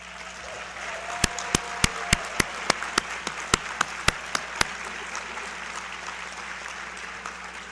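Sparse applause from the audience at a winter graduation ceremony as Aspire Wilmington graduates stand: about a dozen distinct, separate claps over a few seconds, then a quiet hall.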